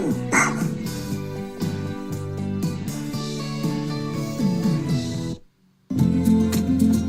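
Dogs at a dog boarding campground barking and yipping in quick repeated bursts, loud and close, broken by a short silence before more barking.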